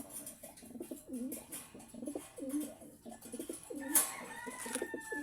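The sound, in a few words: pigeons cooing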